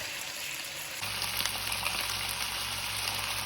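Meat cooking in liquid in a hot pan gives off a steady, close sizzling hiss with small bubbling crackles. It runs without a break and gets a little louder partway through.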